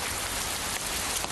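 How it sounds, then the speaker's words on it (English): Steady rain falling in a butterfly valley, a dense continuous hiss of drops pattering on surfaces, fairly loud and unbroken, with no voices. "and then it started to rain"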